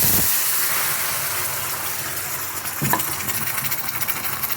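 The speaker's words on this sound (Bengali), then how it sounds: "মাছের ঝোলটা আমি এর মধ্যে ঢেলে দেব।" Fish curry poured into hot oil with black cumin sizzles loudly in a pan, a steady broad hiss with a brief splashing pour and crackle partway through, no talk.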